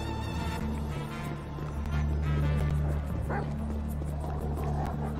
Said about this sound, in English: It's a guy chasing a dog!